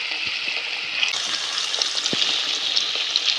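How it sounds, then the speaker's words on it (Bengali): Paneer cubes fry in hot oil in a wok, a continuous bright sizzle that swells after the first second, with small pops and crackles, close and fairly loud, without speech. "পনিরগুলোকে লাল লাল করে ভেজে আমরা তুলে নেব"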